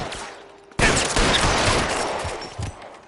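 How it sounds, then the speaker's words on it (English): Sustained volley of rapid gunfire from suppression fire in the video game LA Noire, loud and dense, bursting in abruptly after a quiet lead-in and continuing with overlapping shots to the end. "I'll lay down some suppression fire"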